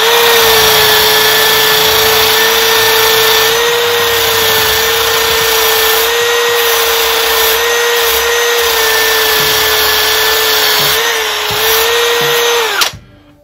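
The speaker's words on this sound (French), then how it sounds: "pourquoi j'y vais avec une brosse en nylon? J'avais pas envie de me couper et en même temps ça enlève la rouille" A power drill spins a nylon brush against a rusty hand plane during restoration, a steady loud whine with a strong hum that holds without pause for about thirteen seconds and then stops abruptly.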